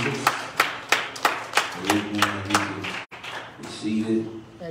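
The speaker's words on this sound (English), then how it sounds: "Would you clap your hands to me one more time?" A church congregation claps hands together in a quick, regular rhythm of sharp claps, with voices speaking and calling out over and around the clapping.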